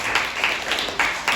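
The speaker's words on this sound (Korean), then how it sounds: "감사의 박수 다시 한번 볼까요?" An audience applauds after a lecture by Professor Lee Jae-young comparing traditional and modern family relationships, with brisk, dense clapping that swells in short waves throughout.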